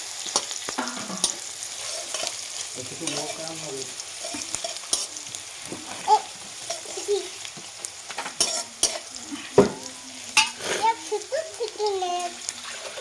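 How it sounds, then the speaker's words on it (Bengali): Onions frying in a pan for a rohu fish curry with taro and tomato sizzle softly as they are stirred. Spoon scrapes and clinks sound intermittently, and voices, including a child's, talk over them. "দেখতে পাচ্ছি হলো পেঁয়াজটা ভাজা হয়ে গেছে।"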